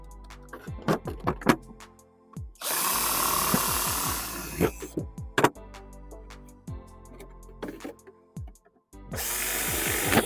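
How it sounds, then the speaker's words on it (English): A power drill whirs in two loud bursts, boring holes into a plastic container, separated by clattering handling noises and knocks. "We're going to be using the drill to make the holes."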